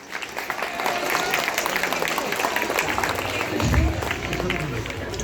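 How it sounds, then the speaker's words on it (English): Audience at a secondary school prize giving ceremony claps steadily for a prize winner, a moderate wash of hands with some voices and a brief low thump near the end. "So give a big clap to Satyajit Mahanti."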